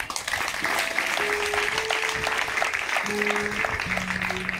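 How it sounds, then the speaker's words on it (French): A church congregation at an evangelical gathering claps and cheers loudly and continuously, a dense wash of applause with sustained voices and tones rising through it, with no pause across the whole stretch. "On acclame puissamment le Seigneur."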